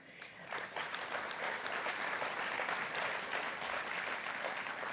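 A conference audience at the 2023 SNP party conference bursts into loud, sustained applause that swells within the first half-second and holds as a dense, steady wash of clapping from many hands.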